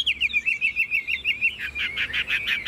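A ngũ trường songbird sings close and clear, first a rapid warbling trill and then a series of louder, rhythmic whistled notes.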